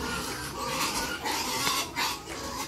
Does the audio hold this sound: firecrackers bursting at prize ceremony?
no